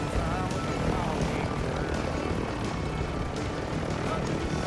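A helicopter in Warzone 2.0 gives a constant loud, broadband rotor and engine roar that stays steady and close throughout, with voices mixed in underneath.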